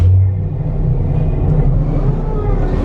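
A Guardians of the Galaxy Cosmic Rewind ride vehicle at EPCOT, Walt Disney World, lifts off with a loud, steady low rumble that holds throughout, without any talk over it.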